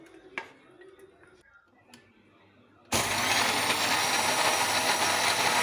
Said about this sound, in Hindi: इसको हम ब्लेंडर में डालकर अच्छी तरीके से ब्लेंड कर लेंगे